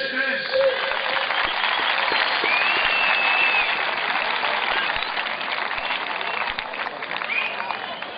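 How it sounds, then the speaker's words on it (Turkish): Audience applause at a live demonstration show, a steady wash of clapping filling the whole stretch with a few faint voices and whistles mixed in. "Alkış."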